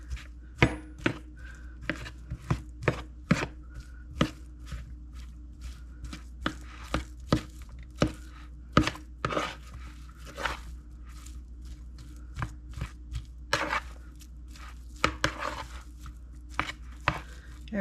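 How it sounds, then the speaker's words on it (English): Cooked potatoes being chopped with a knife on a cutting board for potato salad, giving a long run of sharp, close knocks in a fairly steady rhythm with occasional quicker clusters and short pauses. "I just chop them up."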